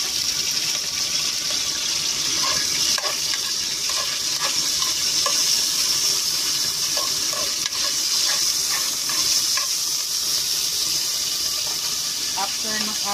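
Ginger sautéing in a pan for sinigang na bangus: a steady broadband sizzle with intermittent stirring clinks and scrapes, close and continuous throughout.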